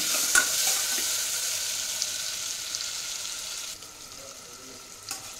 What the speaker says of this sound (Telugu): ఇవి పన్నీర్ అండి, ఫ్రై చేసుకుందాం ఫస్ట్.